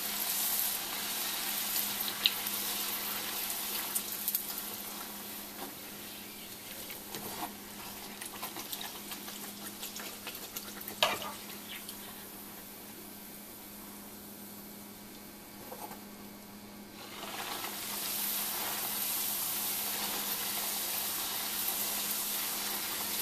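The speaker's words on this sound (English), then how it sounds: "I'm going to fry all this and then we're ready to eat them" Bread frying in hot oil gives a steady, close sizzle that runs the full length, with occasional small pops and a brief quieter stretch midway before the crackle swells again.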